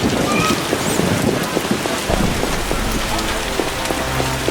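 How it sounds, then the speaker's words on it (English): Heavy rain pouring down in The Witcher video game, a dense, steady hiss of drops on surfaces with a few distinct splashes, loud and close, with a low rumble entering midway. "Rains and it pours."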